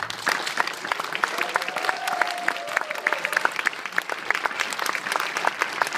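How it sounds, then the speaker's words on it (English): Steady applause from an audience at a film director's Q&A, many hands clapping densely throughout with sharp individual claps standing out, moderately loud and sustained. "So let's of course give a round of applause to Director Jee-woon."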